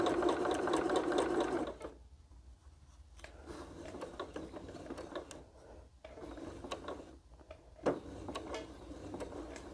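A home sewing machine stitches quilt blocks for a Double Irish Chain quilt, its motor whirring in steady close bursts with short pauses between seams, and no talking over it.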